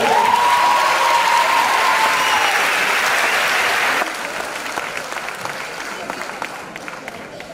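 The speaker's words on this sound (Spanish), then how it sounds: "Un fuerte aplauso." Graduation audience at a secondary school ceremony applauding loudly and steadily, dense clapping throughout, easing to a softer level partway through; a voice rises briefly over the crowd early on.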